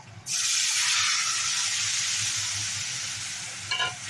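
Chital fish drops into hot oil, setting off a sudden loud sizzle that hisses steadily and slowly fades, with a brief clink near the end and no voices.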